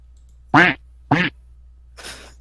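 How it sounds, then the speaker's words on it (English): Duck quacking sound effect played during a live stream, two loud close quacks a half second apart followed by a fainter, noisier third call, with no talking. "I don't know why I have duck sound effects."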